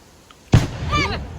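A rock-blasting explosion at a quarry lands as a single sudden, heavy thud with a short rumbling tail, followed by a voice talking nearby.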